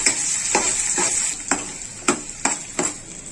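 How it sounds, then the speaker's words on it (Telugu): Onions, curry leaves and finely chopped green chillies frying in a pan, a steady hissing sizzle with about six rhythmic scraping stirs spaced roughly half a second apart. "ఈ ఉల్లిపాయలు పచ్చి వాసన పోయేంత వరకు వేయించుకున్నాము"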